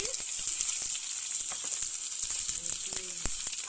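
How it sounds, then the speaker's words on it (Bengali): Chopped onion and potato frying in a pan, a bright steady sizzle with occasional crackles, close, with a faint voice-like murmur toward the end. "আলু দিয়ে আমি পেঁয়াজ আলুটা ভেজে নেব"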